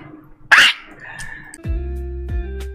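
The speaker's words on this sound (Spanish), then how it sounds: "te soy el perro de Maya, ¿me saludás?" A dog gives a short bark or yelp, then whining, whimpering sounds follow in a small home with music playing, all fairly close and moderately loud without speech.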